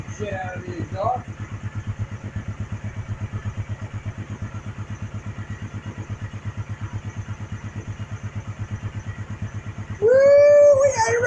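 A small mini Baja truck engine idles on choke with a fast, steady chugging putter, fairly close, with a brief voice near the start and a shout near the end.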